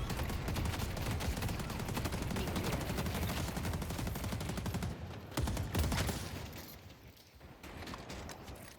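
Sustained automatic turret fire in the game Deadlock, a dense, loud rapid stream of shots running almost continuously, briefly breaking and dipping near the end with a few scattered bursts.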